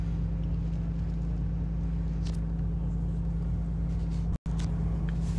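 A Toyota Supra engine idles at operating temperature, a steady low drone close by that holds even throughout, with its revs lifting slightly; there is a brief dropout near the end and no talking.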